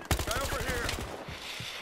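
Rapid automatic gunfire in Battlefield Hardline during a bank job, a dense burst of evenly spaced shots for about a second before thinning to a few scattered reports, with a voice briefly speaking over the action.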